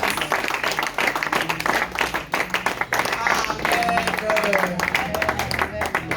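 A church congregation applauds, with dense, rapid clapping throughout and voices calling out over it.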